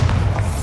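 A Bombarda blasting spell strikes in Hogwarts Legacy, a short, loud, deep boom with a dense low thump that sustains briefly, heard alone without talk.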